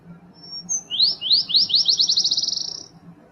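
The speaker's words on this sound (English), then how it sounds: "Here come the birds." A small bird sings alone in a quiet setting: a couple of high thin notes, then a fast accelerating trill of chirps that speeds into a rapid rattle and stops.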